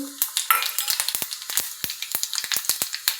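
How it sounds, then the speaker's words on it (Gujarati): Cumin seeds crackling in hot oil for a tempering poured over rice, a rapid series of sharp close pops and spits over a soft sizzle, with no voices. "હવે આપણું તેલ આવી ગયું છે, હવે એમાં જીરાનો વઘાર કરી નાખશું"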